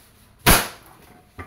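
A WE 2011 Hi-Capa T-Rex semi-automatic airsoft pistol fires a single sharp, close crack during chronograph testing, followed by a faint short tick about a second later.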